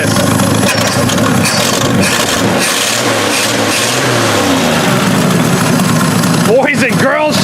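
1968 Chevy engine firing up after 15 years unused, a loud rough running roar with revving rises, close by, as excited voices talk over it toward the end.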